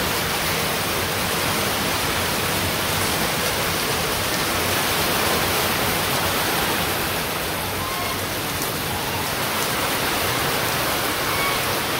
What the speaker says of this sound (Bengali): আর বৃষ্টিটা হঠাৎ করে আর কি নামছে